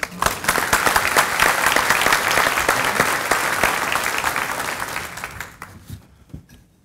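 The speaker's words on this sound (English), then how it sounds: "give a big round of applause" Sustained audience applause at a morning breakfast event in Owensboro, dense and fairly loud for about five seconds before tapering off into scattered final claps.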